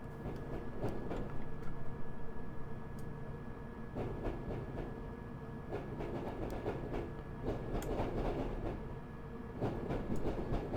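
A London Underground D78 Stock train in Train Simulator 2018 rolls through the track with steady rumble and clattering wheels, a thin sustained flange squeal riding over the continuous running noise, no voices.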